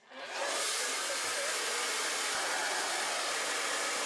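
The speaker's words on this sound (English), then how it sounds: "I then just use the Babyliss hairdryer." A Babyliss hair dryer switches on and blows with a steady, loud, even whoosh that continues without pause.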